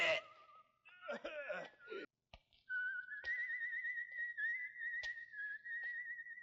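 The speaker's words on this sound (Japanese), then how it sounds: "あの口笛は兄貴だ" A person whistles a long, steady, slightly wavering tune in a scene from the anime Ashita no Joe, clear and prominent after a few moments of voices speaking.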